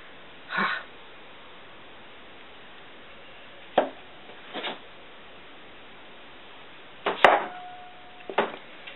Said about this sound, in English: So I love this log splitter. It's so much easier than trying to cut it by hand.